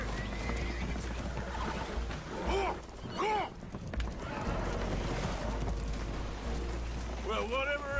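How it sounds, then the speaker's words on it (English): Spooked horses aboard a leaking boat in a video game whinny and neigh in several sharp, rising calls, with hoof clatter, splashing water and rain-like noise beneath, and voices talking in between. "Horses are spooked, and we're taking on water."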